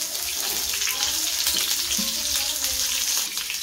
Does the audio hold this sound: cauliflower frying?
yes